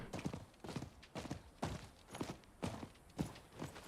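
A horse mount in the video game Diablo 4 trots with rhythmic hoof clip-clops, about six or seven evenly spaced thuds, close and fairly loud with no talk.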